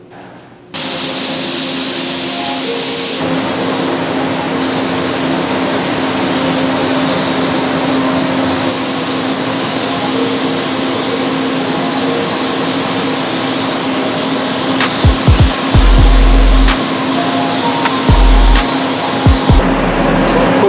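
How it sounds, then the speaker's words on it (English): A paint spray booth runs loudly in a body shop, a steady broadband roar with a low hum that fills the whole stretch, joined near the end by a few sharp low thumps. "I'm going to turn the booth on. It's going to get loud."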